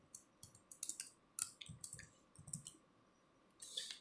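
Fingers typing on a computer keyboard during a typing skill test, quiet close key clicks in quick irregular bursts with short pauses between, no voices.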